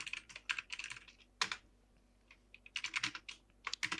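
Git commands are typed on a computer keyboard in quick irregular clusters of close, crisp key clicks with short pauses between bursts, quiet and with no talk.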